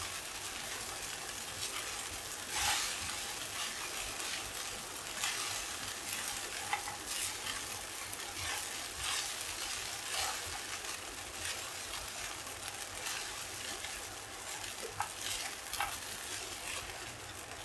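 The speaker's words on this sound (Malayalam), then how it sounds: "ഇനി നന്നായിട്ടൊന്ന് ഇളക്കി കൊടുക്കാം" Sabudana khichdi is stirred in a hot pan, a steady close sizzle and hiss running throughout with faint scraping from the spoon and no speech.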